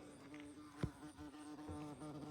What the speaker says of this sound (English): You can hear the bees buzzing about.